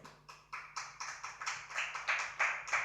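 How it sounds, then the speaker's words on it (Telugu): A church congregation claps in a steady run of sharp, evenly spaced hand claps, filling the room on its own with no speech. "చప్పట్లు"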